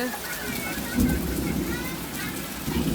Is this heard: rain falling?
yes